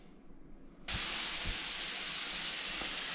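Food frying and sautéing in a frying pan starts abruptly as a loud, steady sizzling hiss that carries on evenly to the end, with a few soft knocks underneath.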